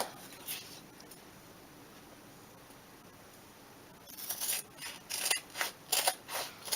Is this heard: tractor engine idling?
no